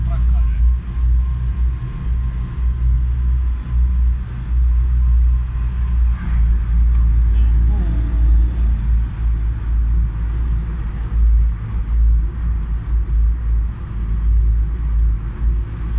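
A car cruising in fifth gear through the Lowari Tunnel, with a steady deep engine and road rumble droning throughout, close and loud, while people talk over it.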